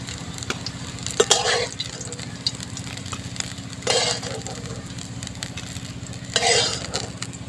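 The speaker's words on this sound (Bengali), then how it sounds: "বাকিগুলো আমি একইভাবে ভেজে নেব" Chicken kofta balls fry in hot oil: a low, steady bubbling sizzle under a humming background, broken by a few louder bursts of spattering and scraping as the balls are moved.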